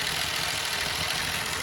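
A worn-out car engine runs at idle with a steady rough rumble and a broad hiss. It sounds fairly close and stays even for the whole stretch, with no talking over it.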